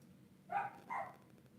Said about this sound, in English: There's Edith barking.